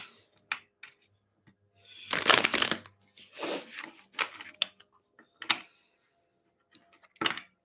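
Tarot cards being shuffled by hand in a quiet room, heard as a run of close, dry riffling and rubbing bursts with short pauses between them, alone with no talking.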